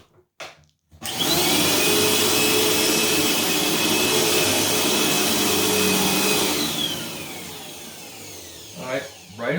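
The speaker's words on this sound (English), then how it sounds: "I haven't used this machine to vacuum anything just yet" Eureka Lightspeed vacuum cleaner switching on after a click and running loudly and steadily over carpet, a strong whine with rumble that eases slightly toward the end.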